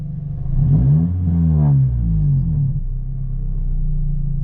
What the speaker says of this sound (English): Let's rev the car.